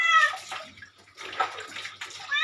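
Water splashes and pours in uneven bursts while a person is being bathed, close and fairly loud with short gaps between pours.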